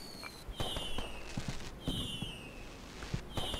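Fireworks in the video game Black Skylands go off in a repeated pattern, each burst a sharp crack followed by a whistling streak, about three cycles with faint background game sounds and no talk.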